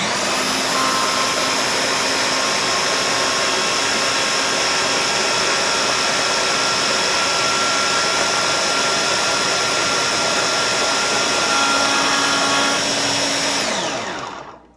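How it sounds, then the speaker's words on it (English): A blender runs continuously, blending banana oat pancake batter with a loud, steady whir that holds evenly for the whole stretch before cutting off near the end. "And you want to blend it so obviously it's smooth."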